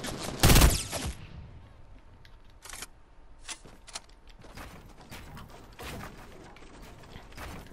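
FAMAS burst assault rifle in a video game fires in short, spaced bursts, one loud close blast followed by quieter sharp cracks and mechanical clicks.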